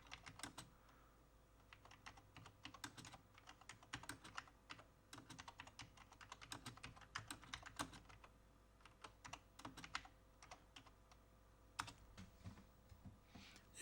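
Someone types on the keyboard of a homemade Z80 computer, a quiet, close, irregular run of crisp key clicks in bursts with short pauses, and no talking.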